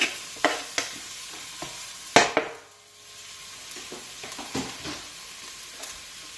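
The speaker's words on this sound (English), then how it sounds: "So in goes some diced white onion and some garlic." Diced white onion and garlic hit warm oil in a pan, giving a run of sharp clattering clicks from a utensil, then a settling, gentle sizzle with more light scraping and taps.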